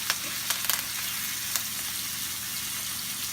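Garlic and thyme sizzle in a pan as a bed for a tenderloin steak, a steady close frying hiss with a few light scraping clicks early on.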